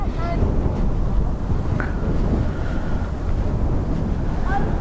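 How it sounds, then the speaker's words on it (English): Breezy wind at Dublin Airport buffets the microphone in a loud, continuous rumble, with faint distant whines drifting through the gusts. "Like I said, James, it's not too bad, it's a little breezy."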